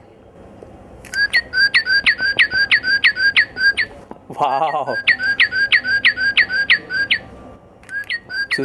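A toy bird's electronic call repeats in fast, evenly spaced whistling chirps, broken once by a brief exclaimed word, then continuing.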